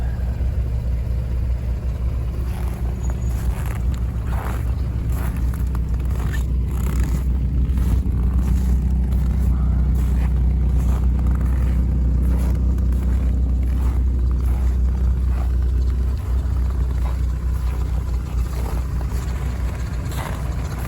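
An Opel Vectra's engine runs steadily at a car market, a loud continuous low rumble with scattered clicks and rattles on top, and no talking.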